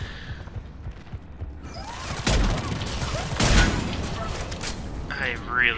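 Automated turrets fire in Mass Effect 3, with sharp volleys and booming impacts in the second half and whirring, creaking turret machinery mixed in amid game effects.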